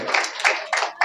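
Several hands clap in short bursts at a first birthday celebration at a ministry gathering, with four distinct rounds of applause following one another closely.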